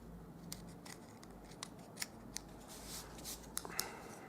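Scissors cutting card for a bird house roof, a series of crisp close snips spaced irregularly over a few seconds against a quiet background.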